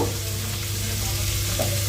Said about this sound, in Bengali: পিস মাঝারি সাইজের পেঁয়াজ সরু করে কুচিয়ে রেখেছি, দিয়ে দিলাম। পেঁয়াজটা তাড়াতাড়ি ভাজা হয়ে যাওয়ার জন্য